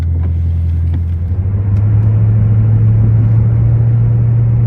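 A car drives through Atlanta traffic, its engine holding a steady low hum from inside the cabin, rising slightly after a brief dip, with no talk.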